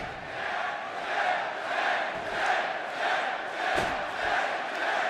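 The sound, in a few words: wrestling arena crowd chanting for Bobby Roode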